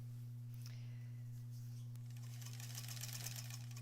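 A sewing machine stitches a quilt in the ditch, running steadily under a constant low motor hum. The stitching grows busier toward the end, close and fairly quiet, with no voices.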